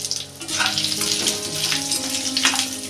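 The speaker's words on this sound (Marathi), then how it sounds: "एक पळी मी तेल टाकते चांगलं सुकं खोबरं भाजून घ्यायचं" Dried coconut roasting in oil in a pan, producing a loud, close, continuous sizzle with occasional stirring scrapes.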